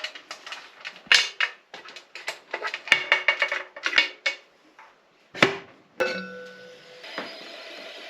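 Metal clinks and clanks as the weight and lid come off a pressure canner holding moose chili, a run of sharp close taps followed by a lingering metallic ring and hiss.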